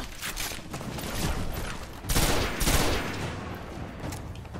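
Shotgun blasts in Destiny against Cabal enemies, heavy booming shots amid a continuous wash of battle noise, with the strongest bursts near the middle.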